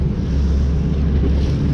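A bass boat runs over choppy waves on Lake of the Ozarks, making a loud, continuous low roar of engine, water and wind buffeting with no break.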